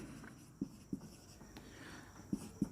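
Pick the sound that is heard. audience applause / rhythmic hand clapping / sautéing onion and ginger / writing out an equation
writing out an equation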